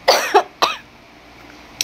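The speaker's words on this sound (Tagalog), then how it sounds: "Excuse me, inuubo po ako." A woman coughs close to the microphone, two quick coughs then a third after a short gap, loud and throaty, followed by a faint click.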